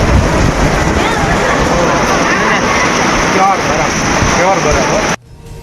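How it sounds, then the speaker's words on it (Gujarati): Heavy rain with hail roars steadily in rural Gujarat, a dense hiss and drumming with harder hailstone hits mixed in, before cutting off abruptly at the end. "લક્ષ્મીપુરા સહિતના ગ્રામ્ય વિસ્તારોમાં કરા સાથે વરસાદ વરસ્યો"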